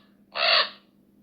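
A single raven call played from the iHunt phone game-call app: one short, harsh, croaking caw, clear and close against a faint electronic hum.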